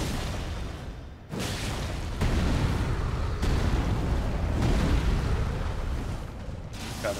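A weapon art attack in Elden Ring from a two-handed strength warrior build, heard as a series of heavy, booming impacts that roll into one another over several seconds, loud and dense, without speech.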